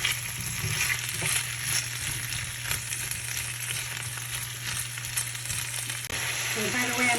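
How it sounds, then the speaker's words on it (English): Sweet potatoes, yellow potatoes and carrots sauté in coconut oil with a steady close crackling sizzle, while occasional scrapes and clinks come through over a low background hum. "So now I'm sauteing sweet potatoes, yellow potatoes, and the carrots."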